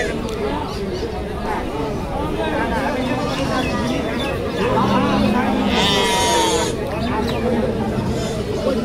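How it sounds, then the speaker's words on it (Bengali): Crossbred and local goats bleat repeatedly at a crowded livestock market in Deohata, Tangail, under loud, constant talk and crowd babble from nearby buyers and sellers. "আজকে প্রচুর ছাগল আমদানি হয়েছে"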